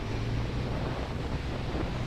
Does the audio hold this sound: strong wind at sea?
yes